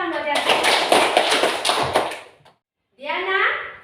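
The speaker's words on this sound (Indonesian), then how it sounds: "Tepuk tangan buat Yanti." Classroom applause for a student, a dense burst of many small hands clapping for about two and a half seconds before stopping, followed by a brief pause and then a speaking voice.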